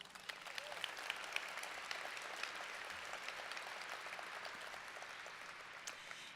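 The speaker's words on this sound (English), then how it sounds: "give yourself a big round of applause" A seated audience at a Chamber of Commerce community gathering claps together, a faint, distant, even patter of many hands sustained for several seconds.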